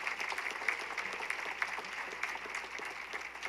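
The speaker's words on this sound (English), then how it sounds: "Let's give another round of applause to our awardees." Audience applause for student awardees at a human relations awards banquet, a steady wash of many hands clapping, fairly faint and distant throughout.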